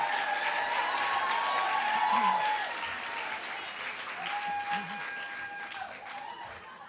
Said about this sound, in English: So if you will welcome them with a little applause